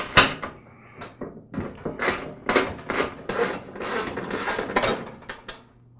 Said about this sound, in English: Next, I'll remove the 2 bolts at the rear of the tine guard.